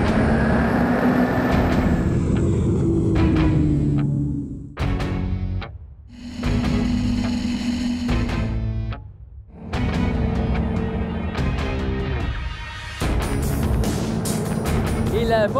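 Twin Mercury Diesel 6.7L 550 hp engines, with FPT Industrial blocks, on a Buzzi 38 Stab Corsa boat, making a loud, close rumbling drone that swells and dips in several bursts, with whooshing water and wind.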